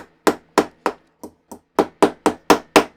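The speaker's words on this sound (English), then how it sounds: "So I've got my little hammer." A small hammer taps a metal pin into a leg piece of a Lich King model, ten sharp, close strikes in an irregular but quick rhythm, each ringing briefly before silence.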